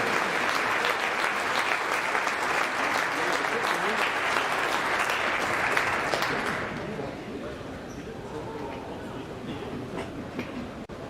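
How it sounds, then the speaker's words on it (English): Loud, sustained applause from a crowd in a high school basketball gym thanking departing seniors. It fills the first six seconds, then thins into a quieter crowd murmur with scattered claps and faint voices. "Please join me in thanking our seniors with a round of applause as we wish them well in the future."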